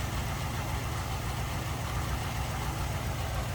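A 1949 Cadillac Series 61 sedan's 331 cubic inch engine idles smoothly, a steady, even low rumble heard close and alone without pauses.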